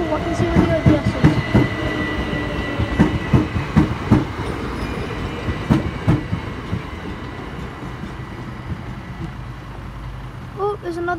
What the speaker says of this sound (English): There we go, there's the train. It's going to London, Victoria.